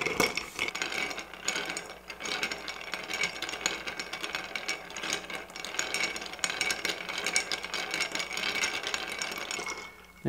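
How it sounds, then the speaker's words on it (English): Ice clinking and rattling steadily against a mixing glass as a martini is stirred, a dense continuous stream of small clicks heard close up with no talking. "You want to stir it for a nice amount of time because it's getting it really cold."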